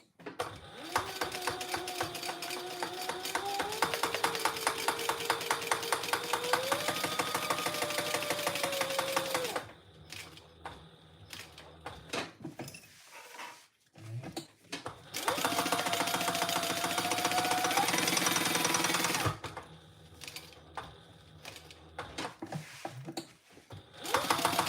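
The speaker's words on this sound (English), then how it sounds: "And sew it on." A sewing machine stitches lining in fast, steady mechanical bursts, running for about ten seconds, pausing with some handling noises, then running again for a similar stretch before starting once more at the end.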